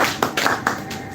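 An audience at a youth programme claps hands in a short burst, a few distinct, fairly loud group claps landing in quick succession.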